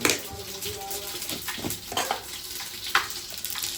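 Cumin and whole spices crackle and fry in hot oil, giving a dense, bubbling sizzle broken by scattered pops and stirring clatter, with a voice speaking faintly beneath.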